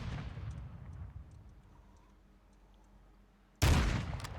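Gunshots in Warzone 2: a cluster of shots at the start fades into quiet, then a sudden loud burst of gunfire erupts near the end and keeps going.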